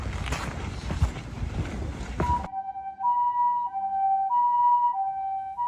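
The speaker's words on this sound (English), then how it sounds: "And I also got to see the island's ambulance service responding to a call." Loud broadband rumble and wind cut off abruptly, then a two-tone ambulance siren wails steadily at a moderate distance on Miyajima Island, Japan, alternating high and low pitches.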